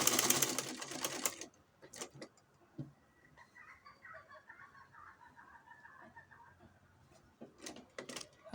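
A sewing machine stitches fabric for a pair of shorts, a loud burst of rapid needle clatter at the start, then quieter intermittent runs and pauses, with a few sharp mechanical ticks near the end.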